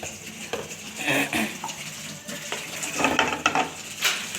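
Chopped onion sautéing in oil in a pan for chicken donuts: a soft, continuous sizzle broken by light scraping and clinking of a utensil stirring, close and moderately loud.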